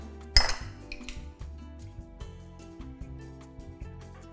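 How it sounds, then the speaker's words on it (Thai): Sifted cake flour being mixed with baking powder and salt in a bowl for a watermelon cake, a sharp clink of utensil on the bowl followed by soft, irregular scraping and tapping. "แล้วเดี๋ยวคนเคล้าให้เข้ากันค่ะ"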